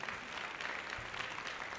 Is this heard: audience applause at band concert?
yes